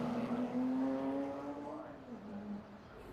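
Porsche championship race cars sweep through the twisting Hall Bends at Cadwell Park, a steady engine drone with shifting pitch as they pass, under a commentator's voice.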